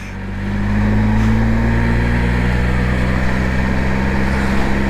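A Can-Am Spyder three-wheeler engine braking on a cold road, a steady low engine drone with strong harmonic hum that swells after a brief moment and holds evenly, no talk over it.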